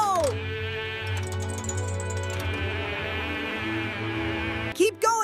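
A cartoon sheep bleats in a long wavering cry over a steady mechanical hum, followed by clicking, ratchet-like sounds and a final short bleat near the end.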